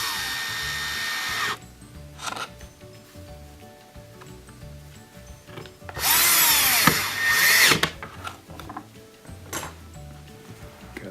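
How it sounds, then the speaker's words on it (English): A power drill drives two Torx 15 screws into a Bosch dishwasher frame, whirring in two short, close bursts separated by quiet clicks and handling noises. "Then we'll add in the two Torx 15 screws."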